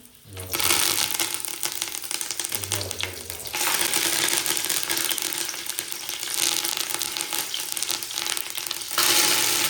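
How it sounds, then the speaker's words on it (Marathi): Boiled potatoes sauté in hot oil in a large pot for a mixed vegetable curry, a dense, loud, steady sizzle with rattling, scraping stirring bursts, close up and alone. "आम्हाला मिक्स भाजी करायची आहे तेलामध्ये परतून घेते"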